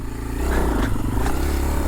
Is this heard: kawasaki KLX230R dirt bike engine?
yes